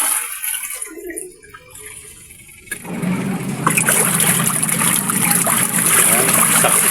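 A Fuji Denso single-tub washing machine churning water after a gearcase shaft repair, a loud, steady sloshing and swirling that dips briefly, then surges back as the tub reverses direction, with a constant motor whine underneath.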